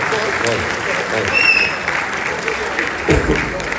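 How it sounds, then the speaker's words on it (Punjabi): Audience applause at a live poetry gathering, a steady wash of clapping from many hands that stays close and fairly loud throughout, with a voice briefly heard over it. "ਇੱਕ ਵਾਰੀ ਫੇਰ ਤਾੜੀਆਂ, ਕਮਾਲ ਹੋ ਗਿਆ"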